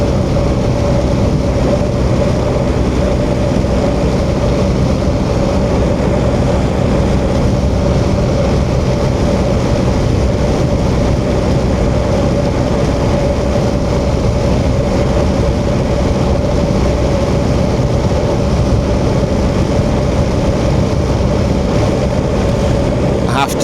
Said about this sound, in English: quite a lot of road noise off these tyres